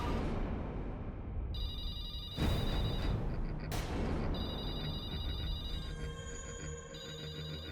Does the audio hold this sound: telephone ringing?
yes